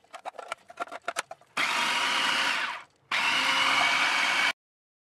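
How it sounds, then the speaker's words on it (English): A kitchen blender blitzes egg whites for protein pizza dough, running in two loud, steady bursts of whirring motor noise with a brief pause between, preceded by a few sharp clicks and knocks. "all that goes in the blender. We're gonna blitz that one up right now."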